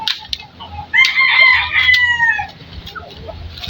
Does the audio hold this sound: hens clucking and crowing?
yes